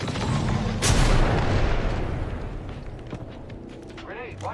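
Grenade blast in the Apex Legends video game: a sudden loud boom hits about a second in, with rumbling gunfire and battle noise continuing underneath and game voice callouts over it.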